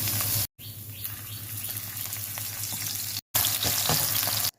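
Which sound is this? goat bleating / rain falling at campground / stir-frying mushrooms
stir-frying mushrooms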